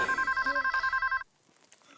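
A telephone bell rings in quick, evenly pulsed bursts for about a second, then cuts off abruptly, leaving near silence.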